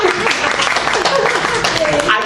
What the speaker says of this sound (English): Give that girl a hand clap.